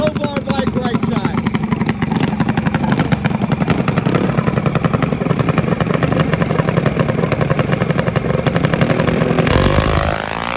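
Mini bike drag racing, one bike with a wheelie bar and one without: small engines rev loud and raspy without a break, a buzzing, clattering roar that changes tone near the end.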